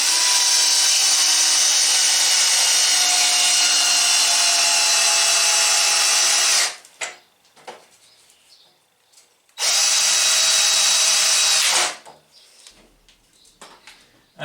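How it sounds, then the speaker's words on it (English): A Lidl PBSA 20 Li A1 cordless drill driving a screw into wood whines loudly and steadily for several seconds, stops, then runs again in a second shorter burst, with quiet pauses between. "that will just drive a screw as far as you like through there"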